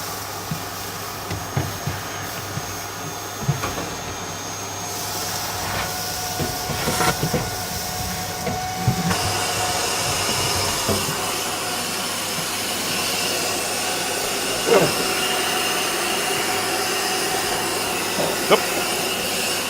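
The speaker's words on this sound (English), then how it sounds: "it filled my vac up in that very short time" A shop vacuum runs steadily, sucking sawdust out of a saw blade shroud hose, with a continuous roaring hiss and scattered knocks and rattles of debris and handling throughout.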